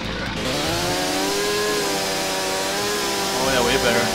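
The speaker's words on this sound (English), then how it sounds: "Here go with the chainsaw." A chainsaw in the video game StarForge revs steadily and cuts through wood, a close, continuous whining drone with harmonic pitch that shifts near the end, with a voice talking underneath.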